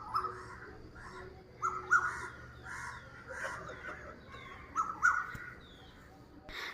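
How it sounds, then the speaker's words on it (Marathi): Several birds call repeatedly outdoors, harsh cawing and chirping notes arriving in clusters over a steady background hum, moderately close. "इथं पक्ष्यांचा इतका सुंदर आवाज येत होता ना"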